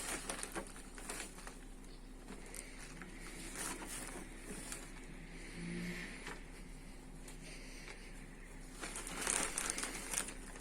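A burst plastic bag of potting soil being handled while flowers are planted in a pot at home. Soft crinkling and rustling comes in irregular bursts, close but faint, with brief sharper crackles near the end.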